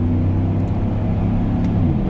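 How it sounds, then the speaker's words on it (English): Chevrolet Silverado pickup exhaust merging onto the highway, a steady low rumbling drone with a faint engine whir, heard from inside the cab with no talking. "Getting on the highway now, kind of can hear the exhaust a little bit."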